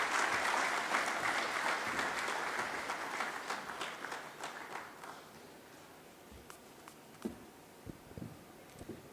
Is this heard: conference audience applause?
yes